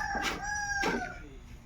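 Backyard chickens, a rooster giving two short harmonic crowing calls in quick succession, moderately close, with nothing else over them.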